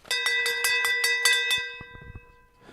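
A bell rung at New Year during a Hogmanay event sounds about eight times in quick, even succession, each strike leaving a bright sustained ring that fades out afterward with a few softer clinks.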